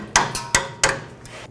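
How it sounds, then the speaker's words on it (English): Sharp metallic taps from a small hammer striking a brake hose fitting on a 2001-07 Toyota Sequoia, four or five distinct close blows in an uneven rhythm with no talking. "And with a small hammer, make sure the hose breaks free."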